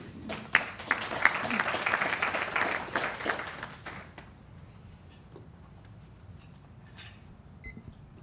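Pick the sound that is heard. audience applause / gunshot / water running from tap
audience applause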